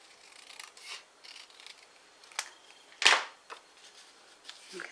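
Scissors snip through a piece of card during papercraft, with a few soft rubbing and handling sounds before one sharp, close cut stands out, followed by quieter rustles in an otherwise quiet room.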